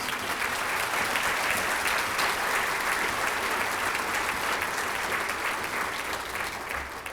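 An auditorium crowd at a school district State of the District event gives a round of applause, a continuous dense roar of clapping sustained evenly throughout without any voices.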